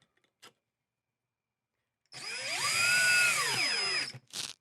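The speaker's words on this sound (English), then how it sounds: "take your screwdriver, in this case a power tool, place the mounting bracket where you'd like it" A power screwdriver drives a screw into a security camera mounting bracket, with a steady whine of about two seconds that rises and then falls in pitch, followed by a short burst of clicking.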